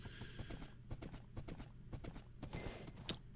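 Horse hooves clip-clop at a steady walking rhythm while riding in Minecraft, a video game, fairly faint and even, with no talking over them.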